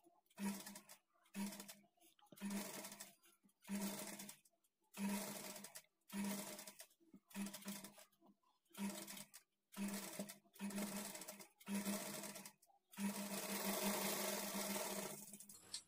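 A sewing machine stitches the sleeves onto a lined blouse in about a dozen short, rapid bursts separated by brief pauses, ending in one longer continuous run, close and clear with no talking.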